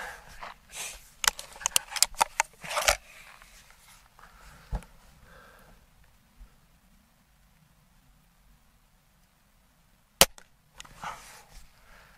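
A Gamo Swarm Viper .22 air rifle is cocked and fired, with a cluster of sharp clicks and snaps early on, a lone crack in the middle, and another loud shot near the end amid long quiet stretches.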